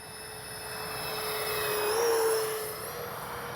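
Freewing twin 70mm AL-37 RC jet on a low gear pass with retracts down, a steady high-pitched electric ducted fan whine that swells as it passes close and then fades slightly.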